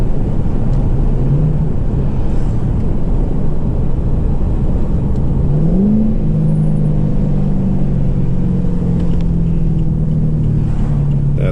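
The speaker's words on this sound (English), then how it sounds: "Do another little downshift here." Chevrolet Caprice PPV (2012) downshifting via paddle shifters, a loud steady cabin rumble with the engine note jumping up in pitch as a gear drops, then settling into a steady drone.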